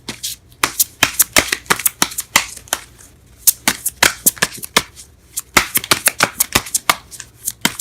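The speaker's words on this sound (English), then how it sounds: "I am drawing cards everywhere." Tarot cards being shuffled and drawn by hand, with quick crisp flicks and slaps in rapid uneven bursts, close and loud, pausing briefly between runs, with no talking.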